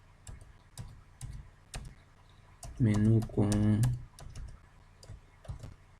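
Typing an email address on a computer keyboard, a steady run of close, crisp key clicks with a brief burst of speech in the middle.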